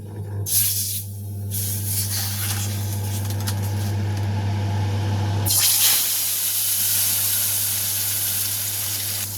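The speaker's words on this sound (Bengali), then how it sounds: "তো দেখো আমার তেলটা গরম হয়ে গেছে। এবার আমি এতে মাছটা দিয়ে দেবো।" Pieces of katla fish drop into hot oil, and the faint crackle jumps to a loud, dense spitting hiss that carries on steadily. A low hum runs underneath before the fish goes in.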